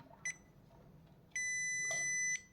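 A LiFePO4 battery BMS on an electric scooter pack sounds startup beeps after its start button is held: a short high electronic chirp, then a sustained steady tone of about one second, clear and close.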